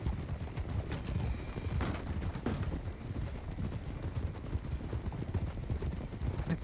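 Horse hooves clip-clop steadily in a Red Dead Redemption 2 game scene, a continuous rhythmic patter under a dense low rumble of ambient noise, fairly faint, with no clear speech.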